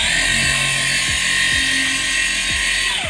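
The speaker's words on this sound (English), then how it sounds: "what I have here is a random orbital buffer. And so I use this to apply the wax onto the surface" A random orbital buffer spreading wax over a fiberglass boat hull makes a loud, steady high-pitched whir up close, with a faint rhythmic wobble as the pad moves across the surface.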